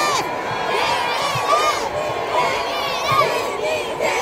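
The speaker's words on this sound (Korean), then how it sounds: "그냥 외쳐 주시면 뜨문뜨문 외치지 마시고 크게 한번 외쳐볼까요?" A large crowd at a trot festival concert in Daegu shouts loudly together, a sustained wall of massed voices with cheering that swells and holds for several seconds.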